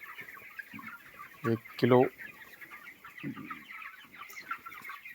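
Twenty-one-day-old broiler chickens on a poultry farm make a constant background of soft chirps and clucks, with two louder squawks nearby and someone talking over the flock.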